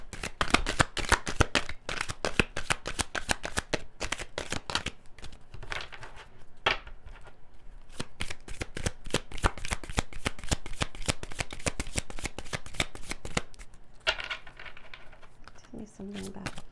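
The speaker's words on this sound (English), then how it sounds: "I'm gonna pull some romance angel cards." Romance angel oracle cards are shuffled steadily and close up, a dense run of quick papery riffling clicks that lasts the whole stretch, with faint murmuring at moments.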